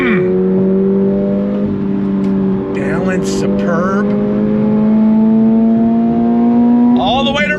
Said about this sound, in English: All the way to red line.